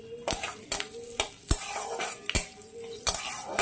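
Dry chili, a bay leaf and panch phoron frying in oil, a soft sizzle under repeated sharp clinks of a metal spoon stirring against the pan, about eight irregular strikes, close and without talk.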